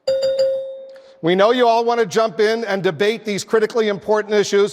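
A debate timer bell rings once as a single sustained ding that fades out, followed by someone speaking loudly and continuously.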